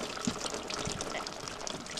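Water pours and splashes down from an improvised shower at a river hut, a steady close hiss with small spatters and no speech.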